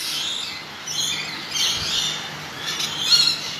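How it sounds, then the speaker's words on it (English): Adult lorikeets, an Australian parrot species, squawk and chirp continuously in an aviary at a wildlife park, a dense chorus of shrill overlapping calls at moderate loudness with no talking. "So these are our adult lorikeets."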